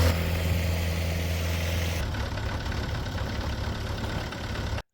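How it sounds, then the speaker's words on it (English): A combine harvester's engine runs steadily and loudly as the machine is driven into a timber-framed machine shed, a dense low rumble that holds without a break and cuts off abruptly at the end. "If I can drive my combine harvester into the shed."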